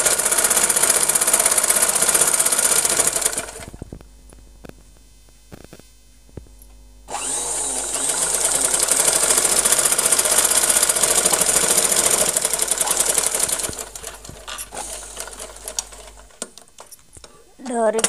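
A sewing machine runs loud and close, stitching the joints of a long frock in two long continuous bursts separated by a quiet pause, with talking during the clip.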